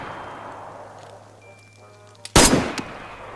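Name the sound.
AK rifle automatic gunfire in a video game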